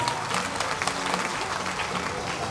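Audience applause at a singer's album launch concert event, a continuous crowd clapping throughout with a faint murmur of voices beneath it.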